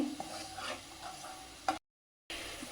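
Chili powder and spice masala are stir-fried in a pan for fish curry, with soft scraping and low sizzling. A sharp clatter is followed by a short stretch of silence, then the quiet frying resumes.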